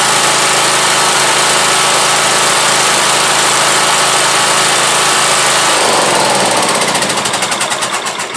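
A Briggs & Stratton 670cc V-twin engine runs loud and steady close by, then its tone drops and the engine begins to chug and pulse toward the end.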